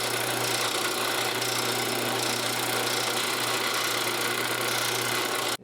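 A drill press runs in a knife-making workshop with a constant, close motor hum and whine that holds steady for several seconds before cutting off abruptly at the end.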